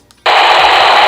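Steady, loud hiss of open static pours from a cheap handheld walkie-talkie with the squelch off, cutting in abruptly after a brief quiet moment and holding constant to the end.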